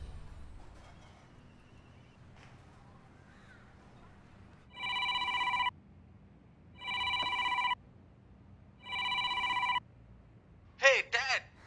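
A telephone rings three times in regular electronic bursts, each about a second long with pauses between, followed by a brief chirpy sound at the end.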